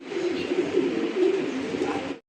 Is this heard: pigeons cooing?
yes